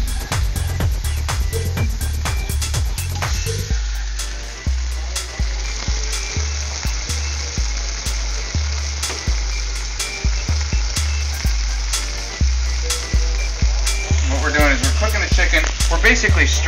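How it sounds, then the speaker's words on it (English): Chicken stir frying in a hot skillet for mandarin orange chicken, a loud steady sizzle with repeated scraping and stirring strokes throughout, close up, with no talking. "Basically stir frying it in the skillet for 5 or 6 minutes, or until it's no longer pink."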